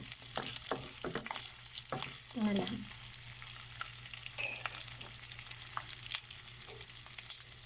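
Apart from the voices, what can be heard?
pork frying in oil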